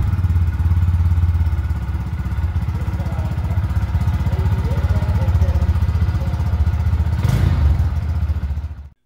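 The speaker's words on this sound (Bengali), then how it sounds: "এখন বাইকটির এক্সস্ট নোটটি একটু শুনে নেওয়া যাক।" A 2022 GPX Demon GR 165R motorcycle idles with a steady, loud, close exhaust note and a fast, even throb. A brief rev comes near the end, and then the engine cuts off.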